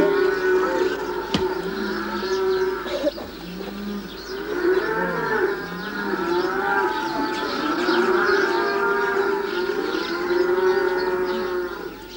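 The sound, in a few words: herds of cattle and donkeys driven through village streets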